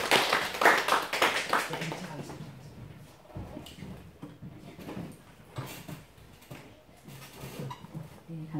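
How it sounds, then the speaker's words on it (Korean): A church congregation claps to welcome a missionary coming forward, starting as a burst of applause that fades after about two seconds. Speech and small knocks and shuffles follow. "우리 김보라 선교사님 나오실 때 박수로 환영하겠습니다."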